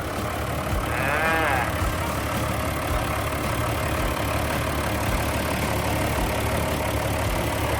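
A Komatsu 520 wheel loader's diesel engine idles with a dense, steady rumble close by, joined by a brief squealing whine early on.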